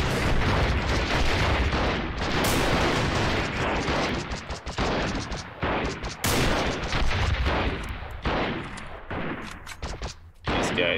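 Sustained gunfire from a guerrilla warfare video game, dense bursts and rattling shots running almost nonstop at close range with a few louder booms, no talking over it.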